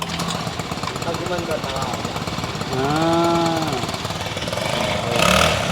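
A 49cc 4-stroke pocket bike engine runs steadily at a shop in Tondo, a buzzing rattle that revs up briefly in the middle, while people talk over it nearby.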